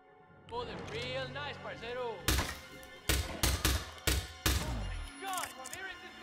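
Several loud gunshot bursts from a minigun-like weapon in Hitman 2 punch through the clip, spaced about a second apart, with a person talking over them before and after.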